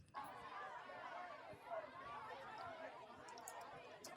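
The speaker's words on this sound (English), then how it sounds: "the crowd noise can kind of give it that live kind of feel" Background crowd noise sampled into an Ableton dance track, a steady wash of indistinct chatter and murmuring voices with a few faint laughs, held at an even level throughout.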